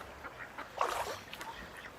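Ducks quack near a river, a few soft, nasal calls rising over quiet outdoor background with one brief louder burst in the middle.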